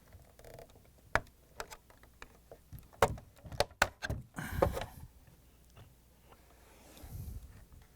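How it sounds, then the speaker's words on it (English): Flat-blade screwdriver prying the plastic tabs of a Samsung washer control knob, giving scattered sharp clicks, snaps and creaks up close, with a louder rattling scrape midway and quieter handling noise afterward. "I'm going to pull from the bottom on that control knob, and I'm going to help with the flat blade screwdriver to open these"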